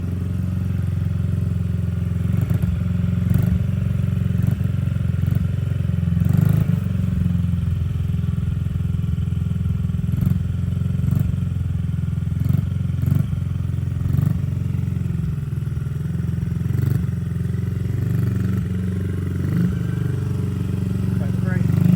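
A Honda CRF50 dirt bike's small engine drones steadily and fairly loud as it rides up a hill outdoors, with light clatter and people talking over the motor throughout.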